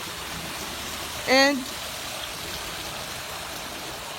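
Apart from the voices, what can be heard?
flowing water of a campus water feature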